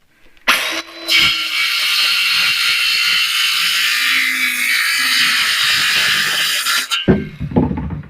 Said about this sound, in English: Now we're going to use a circular saw because it cuts straight line better.